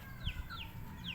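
Gamefowl in a yard, a Gilmore hen of lemon-bred line, clucking and calling in short repeated rising notes over a low rumbling background, moderately close.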